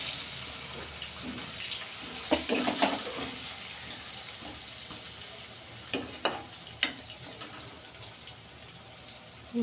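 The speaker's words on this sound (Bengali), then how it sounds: "পেঁয়াজটা দেখো সুন্দর করে ভাজা ভাজা হচ্ছে" Chopped onion frying in hot oil for a cauliflower curry, a faint steady sizzle broken by several clicks and knocks of stirring utensils, quiet overall with no talking.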